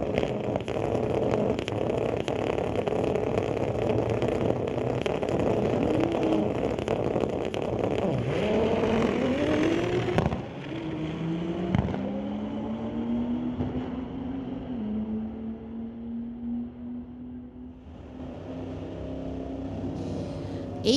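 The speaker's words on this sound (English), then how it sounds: "Unkovic in the Lordco lane in his 2008 BMW he calls Silent 11. Going against Razvan Dejan from Maple Ridge, 1996 VW Golf, part of Team All Race." A 2008 BMW and a 1996 VW Golf race at a street-legal drag racing event, engines roaring loud and close, then revving up through gears with rising whines as they pull away and fade.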